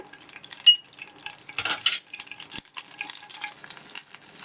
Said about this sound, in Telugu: వెల్లుల్లిపాయలు మెత్తగా చేసుకుని వేసేసానండి